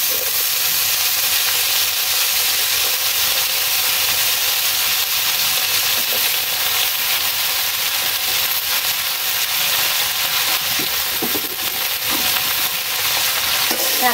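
Data shak greens sizzling in hot oil, a steady, loud, close hiss and crackle that runs unbroken throughout with faint stirring.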